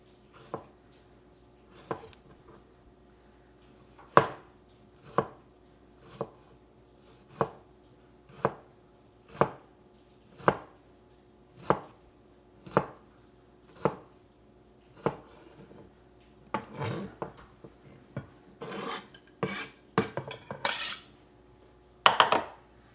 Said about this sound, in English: I'm also going to chop this up pretty small